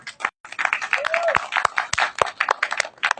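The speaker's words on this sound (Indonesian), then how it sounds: "tepuk tangan yang meriah" Scattered, uneven clapping from a small audience at a film press conference, with a few sharp, loud individual claps standing out among softer ones and brief pauses in between.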